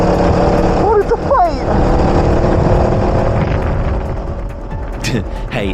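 Racing kart engines buzz on a UK karting track, a loud, close droning whine that rises and falls as karts pass, with a voice talking over it.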